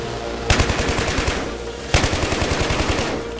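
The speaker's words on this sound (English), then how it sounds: "Good thing you gave me a machine gun." Battlefield 3 video game machine gun firing two sustained automatic bursts, rapid evenly spaced shots, loud and close with no talking.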